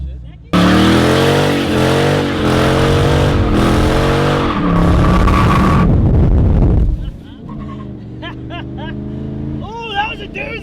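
A Hemi car revs hard in second gear and dumps the clutch for a burnout, a loud sustained engine roar that rises and falls before dropping to a lower rumble, with voices over the end.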